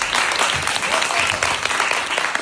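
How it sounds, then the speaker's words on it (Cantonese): An audience at a musical theatre show bursts into dense, sustained applause, a continuous loud wash of clapping hands filling the room without pause. "俾掌聲"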